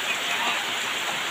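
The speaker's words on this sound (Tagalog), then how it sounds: "grabe lakas ng ulan ngayon dito" Heavy rain pours down in a steady, dense hiss of drops hitting a roof and ground during a windy afternoon storm, loud and continuous.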